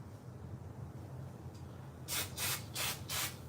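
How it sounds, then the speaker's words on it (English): Cooking spray greases a baking pan for a Southern-style crunchy top pound cake, heard as four short, close hissing bursts in a steady rhythm after a stretch of quiet. "I'm probably gonna spray this stuff all over my floor."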